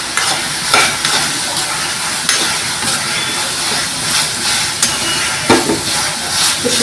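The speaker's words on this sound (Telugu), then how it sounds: "ఇప్పుడు మనం ఈ టైంలో మనము చికెన్ యాడ్ చేస్తున్నాము. హై ఫ్లేమ్లో పెట్టుకొని మనం కలుపుకోవాలి బాగా" Chicken is stirred into a cream sauce over a high flame, giving a steady, close sizzle broken by irregular scraping and clattering strokes of the spoon against the pan.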